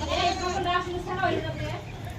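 A large-uddered dairy goat in a village bleats in short wavering calls, close by, while people talk over it.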